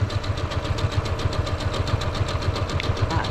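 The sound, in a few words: sewing machine stitching quilt blocks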